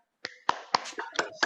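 Schoolchildren in a classroom perform a rhythmic clapping chant, with six sharp, evenly spaced claps over about a second and a half and faint chanting voices between them.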